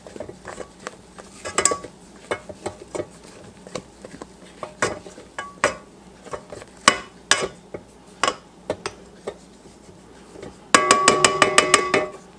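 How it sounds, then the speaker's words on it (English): A spoon works through bread batter by hand, folding in beaten egg whites, giving soft scraping strokes and light taps against the bowl in an irregular rhythm, ending in a brief rapid burst of clinking. "I'm going to mix it a little bit myself here"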